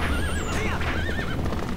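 A horse in the video game Zelda: Twilight Princess gives a loud, close, wavering neigh over the clatter of its hooves, with no talk.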